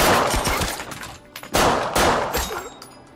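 Rapid bursts of gunfire and explosive cracks ring out in a Stalingrad battle scene from a war film, loud and close, with sharp repeated shots separated by brief lulls.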